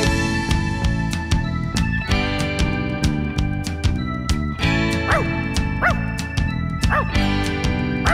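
Barking dogs in a Finnish children's song about an animal swimming school, with a steady beat of drums and sung music running underneath short, repeated yipping woofs.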